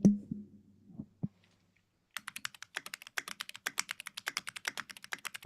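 Clicks from a mechanical keyboard with tall keys are typed in a quick, uneven burst that runs close and crisp. A few soft thumps and a short low hum come first, then the keys fill the rest.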